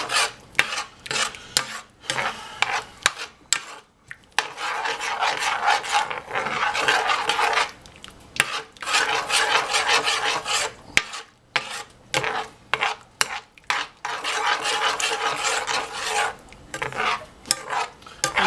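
Stroganoff sauce is mixed in a pan over medium heat, with rhythmic scraping and rubbing strokes repeating close by, broken by brief pauses.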